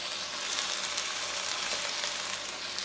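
An egg frying in a pan with pork for Thai fried rice gives a steady, close, even sizzle with soft crackle throughout, with no talking.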